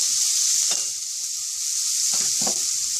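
Butternut squash sautéing in a pan with a teaspoon of extra virgin olive oil gives a steady high sizzle, with a few soft stirring scrapes beneath it and no voices.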